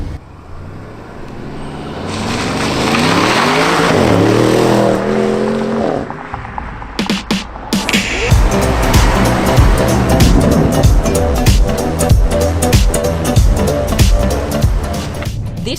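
Audi RS7 with a 600-horsepower twin-turbo V8 accelerating hard on a German Autobahn, the engine note climbing steadily through the gears with rising pitch and sharp shift breaks, loud and continuous with road roar beneath.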